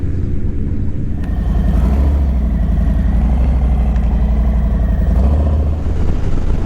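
A motorcycle engine running steadily on a back-road ride near Murcia, a loud, close, continuous low rumble with an even throb throughout.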